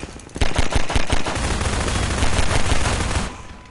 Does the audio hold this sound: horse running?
no